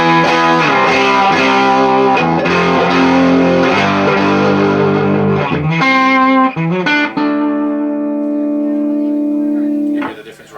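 Electric guitar through a 65amps Lil' Elvis amplifier, played as strummed chords and sustained notes with a slightly driven tone, ringing loud and close before a final held chord fades out.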